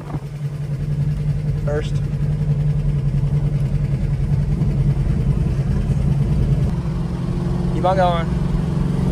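A car engine runs steadily in the background on an open road while the driver works through the gears, with a brief rev and pitch change, and two people talk over it.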